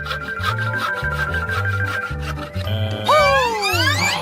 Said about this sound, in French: Une scie.